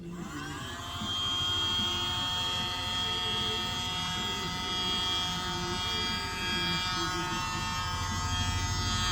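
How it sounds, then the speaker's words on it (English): A small handheld mini blower whirs steadily as it blows across freshly poured acrylic paint on a Christmas bauble, a close, continuous high motor drone with a tonal whine that holds nearly unchanged for several seconds after starting. "Then I use my handy dandy blower"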